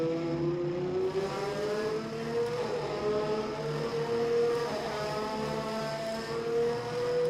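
Several 1988-season Formula 1 cars in the rFactor 2 racing game, including a McLaren and a Ferrari, scream past with sustained high-revving engine notes, pitch shifting and overlapping as they run close together at the German Grand Prix.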